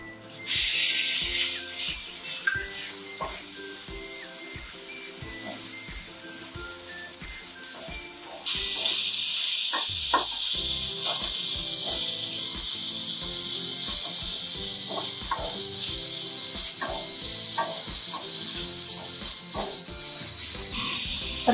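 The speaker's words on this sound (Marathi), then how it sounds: "आता हे कांदा थोडा लालसर झालाय, आता आपण टमाटर टाकून घेऊया।" Tomatoes tipped into hot oil with reddened onions in a pan for spicy Maharashtrian misal, a loud steady sizzle and hiss with scattered crackles and stirring clatter throughout.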